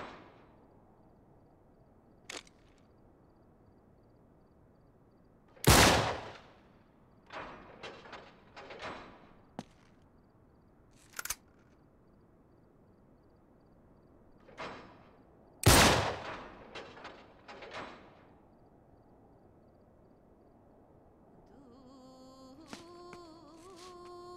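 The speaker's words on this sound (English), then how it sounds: "Back up, I'll shoot the lock." Gunshots fired at a lock in Uncharted 3, sharp isolated bangs spaced several seconds apart in a quiet scene, two loud blasts among smaller clattering impacts, ending with a brief electronic chime.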